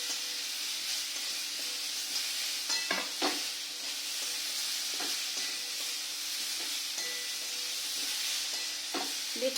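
Spices frying and being stirred in a pan for a thin home-style curry, a steady close sizzle and hiss broken by scraping stirs and occasional sharp clinks of the spoon.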